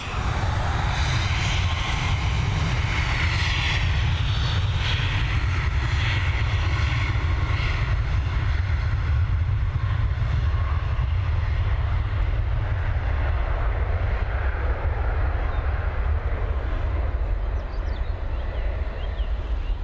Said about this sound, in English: Should be back just in time for this 737 MAX departure